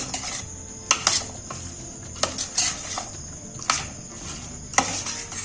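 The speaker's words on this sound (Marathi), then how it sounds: "ते मिक्स करून घेते छान दही" Yogurt mixed into rice in a bowl with a metal spoon, producing sharp clinks and scrapes at an irregular pace, close and fairly loud.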